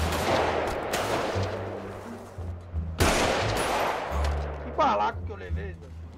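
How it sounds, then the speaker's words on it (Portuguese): Gunfire in a roleplay video game, several loud sharp shot bursts and rapid reports across a few seconds, mixed with excited talking. "Filho da puta, você atirou em mim!"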